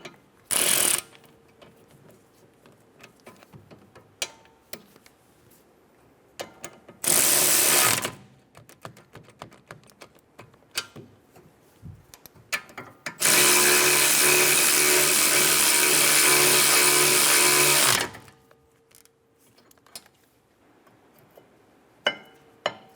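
Brake caliper bolts being tightened on a 2013-2017 Honda Accord rear performance caliper, with short ratcheting bursts followed by one long continuous loud run of a ratchet or power tool, quiet ticks between, and no talk.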